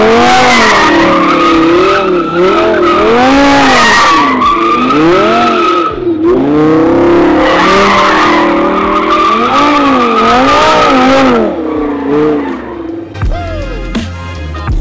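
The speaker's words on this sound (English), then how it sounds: "Time to do some donuts in the Lambo." Lamborghini Huracan doing donuts, its tires squealing and skidding in long wavering, looping howls under a loud, rising and falling engine, continuous for most of the clip before ending in a rougher burst.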